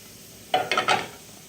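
Shrimp frying in butter and garlic as it is stirred around a pan: a short burst of sizzling and scraping, with a few quick stirring strokes, fairly faint and close.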